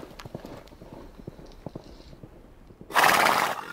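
Horse sound effect accompanying a toy farm diorama with cattle and horse figurines: a quick run of clip-clop hoofbeats, then a loud, close whinnying neigh near the end.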